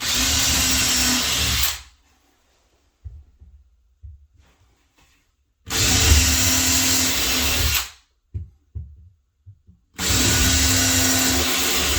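Power drill on turbo boring holes into a closet board, three loud sustained bursts of whining motor and bit grinding, separated by quiet gaps with small handling knocks.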